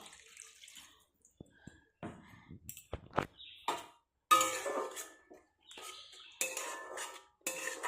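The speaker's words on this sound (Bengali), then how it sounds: "এখন এর মধ্যে জলটা দিয়ে দেবো" Ginger-garlic paste water is poured into hot oil in a pan, giving a few sharp splashes and bursts of sputtering sizzle between quiet gaps, close but fairly soft.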